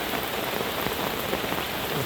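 Heavy rain pours down in the countryside in the evening, a dense, even patter on surfaces close by, unbroken throughout.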